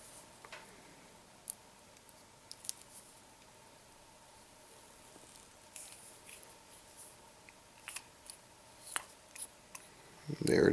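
A blade cutting around a spent cartridge shell beside an RCBS 502 balance scale: sparse, faint snips and sharp ticks scattered across a quiet room, growing busier and louder toward the end.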